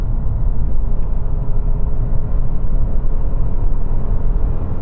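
An improved Toyota Yaris Cross compact SUV accelerates hard in power mode after a brake boost, heard from inside as a steady, loud low engine and road rumble with a continuous whir and no talking.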